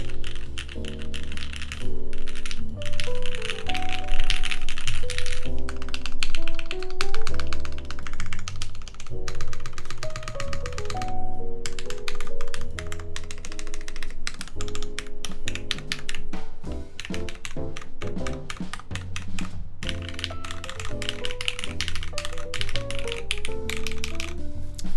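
Quick, continuous clacking of keys on a Monokei Kage mechanical keyboard with Cherry MX Black switches and PBT keycaps, close and crisp, with uneven bursts of typing and no voices.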